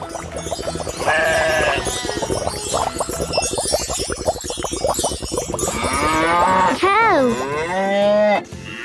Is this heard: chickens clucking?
no